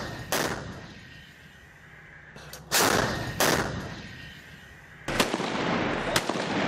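Artillery bombardment and gunfire on militant positions: several heavy blasts and sharp reports, each with a long rumbling decay, hit at irregular intervals, loud and fairly close.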